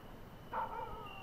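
A dog gives a single short, high bark or yip in a quiet indoor setting, faint and brief, with no one talking.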